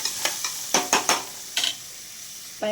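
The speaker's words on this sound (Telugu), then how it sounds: "జీలకర్ర, ఉల్లిపాయ గోల్డెన్ కలర్ వచ్చేదాకా వేసుకోవాలి." Cumin and onion frying in a pan until golden, with stirring scrapes and sizzling bursts in short irregular strokes, close and moderately loud with no talking.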